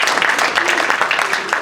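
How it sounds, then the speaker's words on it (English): An audience at a city council candidate forum applauds, a dense burst of many hands clapping, loud and continuous throughout. "let's give all of our candidates a round of applause"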